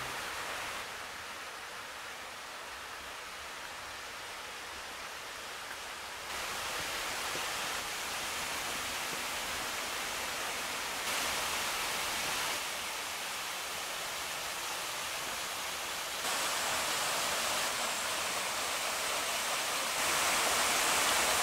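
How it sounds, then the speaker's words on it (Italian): The waterfall at Conca della Campania pours in a constant, hissing roar of falling water, steady and fairly close, swelling slightly in level a few times, with no voices. "siamo di fronte alla cascata"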